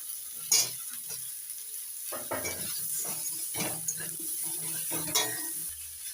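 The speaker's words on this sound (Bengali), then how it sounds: "আলুর সঙ্গে পটল একটু ভেজে নিয়ে এবার দিয়ে দিচ্ছি কেটে রাখা পুঁই শাকের ডাটা" Potato, pointed gourd and Malabar spinach stems fry in a pan for a vegetarian chorchori, giving a steady hiss broken by repeated scraping stirs and light clinks of a utensil against the pan, with no talking.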